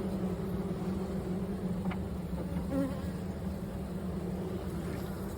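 Honeybees hum steadily around an open hive during an inspection shortly after a nuc installation, a continuous close drone of many wings with no talk.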